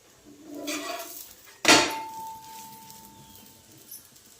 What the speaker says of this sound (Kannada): ಒಂದು ಸ್ವಲ್ಪ ಪಾತ್ರೆ ಐತೆ, ಅದು ತೊಳ್ಕೊಬೇಕು ನಾನು